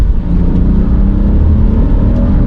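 A BMW F30 car engine's low, throbbing exhaust burble, loud and close, holding a steady rumble with slight pulsing.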